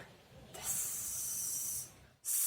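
A voice imitates a snake's hiss for the letter S in a phonics lesson: one long sustained hiss of over a second, then a second hiss starting after a brief pause, close and loud.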